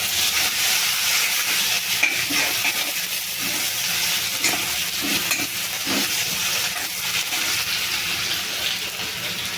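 Ginger garlic paste frying in hot mustard oil in a pan with chilies, a steady bright sizzle with occasional stirring scrapes and spatters, close and continuous.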